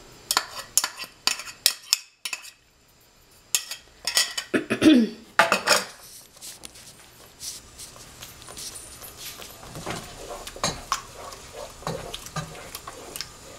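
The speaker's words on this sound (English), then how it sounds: "into it you can now mix the ginger, garlic and chili" A spoon scrapes and clinks in a metal pot while ginger, garlic and chili are mixed in, giving irregular knocks and stirring scrapes that fade toward a quieter, softer stir, close with no talking.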